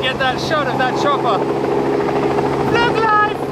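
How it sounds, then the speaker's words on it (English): A helicopter flies overhead near a car race, its rotor and engine a continuous loud drone with some wavering pitch, heard under people talking close by. "Trying to get that shot of that chopper."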